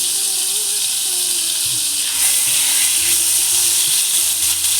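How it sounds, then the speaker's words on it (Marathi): Ginger-garlic-chili paste hits hot oil with a bright, continuous sizzle and spitting hiss that swells slightly midway, close and loud with no talking. "आता मी यामध्ये आलं लसूण मिरची पेस्ट घालत आहे।"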